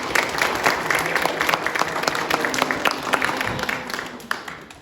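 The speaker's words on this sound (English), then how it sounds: "Can we give a quick round of applause for?" An audience at a 2022 awards presentation in central Minnesota applauds, a steady patter of many hands clapping for several seconds before tapering off at the end.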